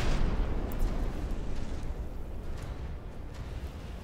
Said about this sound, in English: Wow, these cram cannons are no joke.